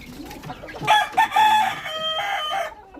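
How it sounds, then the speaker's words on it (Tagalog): A pure J45 game hen voices a short, loud, close call of rising clucks and a crow-like cry lasting a couple of seconds. "So ito si Karina, ating pure J45 na hen."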